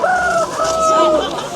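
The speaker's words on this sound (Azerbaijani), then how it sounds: "Burada da var toyuqlar." Poultry at the Sabunchu chicken market give loud, drawn-out tonal calls, two long cries one after another, close by and without talk over them.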